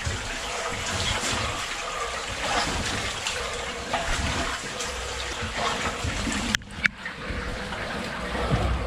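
Water trickles and splashes steadily into a new pond beneath an old road between Northallerton and Darlington, a continuous close rushing wash with a brief knock near the end and no talk.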